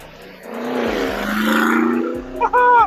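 A 2019 Mercedes G-Wagon G550 fitted with a Fi-Exhaust revs, its engine note swelling steadily to a sustained roar before a sharper, louder burst near the end.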